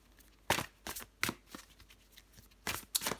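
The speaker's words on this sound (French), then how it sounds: "Allez, je prends encore une carte pour vous les taureaux." Tarot cards shuffled and drawn, a series of sharp riffling bursts and soft slaps in uneven rhythm, close and fairly quiet, with no talking.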